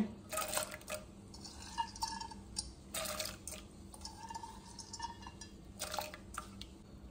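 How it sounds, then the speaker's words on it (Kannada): Half a cup of washed toor dal is tipped into heated water inside a pressure cooker for a Konkani spinach curry, giving a few soft, quiet splashing and dripping bursts over faint background. "ಕುಕ್ಕರಲ್ಲಿ ನೀರು ಬಿಸಿಯಾಗಿದೆ. ಈಗ ನಾನು ತೊಗರಿಬೇಳೆ ಹಾಕ್ತಿದ್ದೇನೆ."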